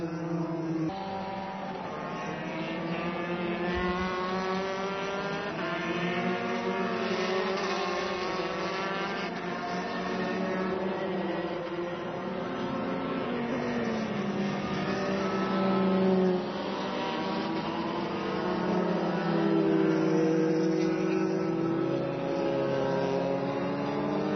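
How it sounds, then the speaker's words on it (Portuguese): Formula 3 race cars in an F3 Brasil race at Interlagos in 2014 scream past. Their engine notes rise and fall in overlapping pitch sweeps, moderately distant and continuous, with no talk. "Olha só como é que o Matheus Iório consegue a ultrapassagem por dentro"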